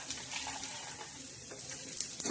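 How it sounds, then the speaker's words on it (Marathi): Garlic frying in oil in a pan while making a spicy chicken curry with black masala, a faint, soft crackling sizzle with light stirring scrapes and a couple of small clinks, no voices. "लसण बी असं छान भाजून घ्यायचा."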